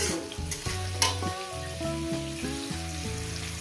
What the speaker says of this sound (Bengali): পেঁয়াজটাকে আমি চার মিনিট ধরে ভেজে নিয়েছি